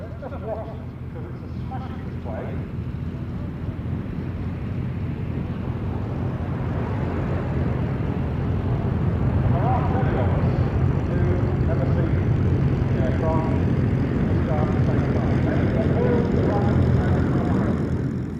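A Folland Gnat lightweight jet fighter flies at the Duxford airshow, a broad distant engine roar that swells gradually and holds loud toward the end, with no talk over it.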